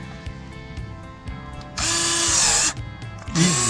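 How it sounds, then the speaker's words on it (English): LIGO cordless electric pruning shears whir loudly as they bite through a thick twig, with two sustained motor bursts following quieter clicks and handling noise, all close up and without talk. "So let's see if this applies enough pressure."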